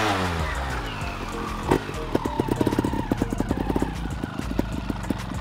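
An enduro motorcycle engine rumbles as the rider brakes, with a series of rapid rhythmic mechanical pulses and knocks as it slows.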